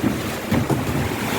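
Strong typhoon Tino wind during a Signal No. 4 storm in Antique, roaring steadily and loudly across the whole clip in sustained gusting buffets with no voices.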